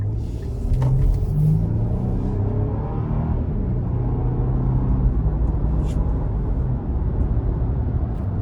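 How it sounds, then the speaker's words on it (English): A 2025 Nissan Armada SL accelerates in sport mode, its engine producing a deep, steady rumble heard from inside the cabin, loud and continuous without sharp peaks. "We'll give it a little pull here."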